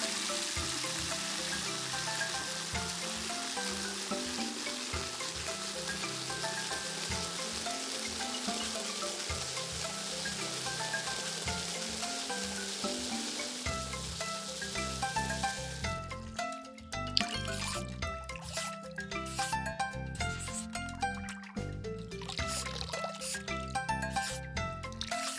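Cartoon concrete truck being showered with water, a steady hiss of spraying and dripping water over playful music that shifts into a brighter, punchier tune partway through.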